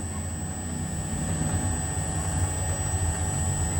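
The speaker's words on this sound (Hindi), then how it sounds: "50 हर्ट्ज़ फ्रीक्वेंसी है, मोटर हमारी पूरी फ्रीक्वेंसी पे चल रही है।" An electric motor driven by an Invent 2.2 kW VFD at full 50 Hz, around 1500 rpm, gives a steady, loud hum with a constant high whine over a low rumble, running unbroken throughout.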